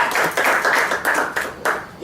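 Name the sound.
congregation applause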